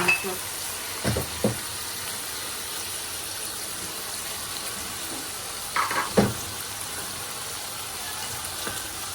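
Mixed vegetables, everything but the capsicum, are stirred in a frying pan: a faint, steady sizzle runs underneath while a utensil scrapes and clinks against the pan in a few brief bursts.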